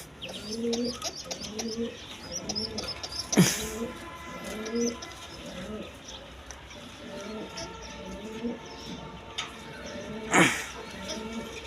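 Pigeons, including Lahori and Sirazi breeds, coo repeatedly in a rhythmic, close chorus alongside a few chirps and tweets, with two sharp bursts of noise breaking through.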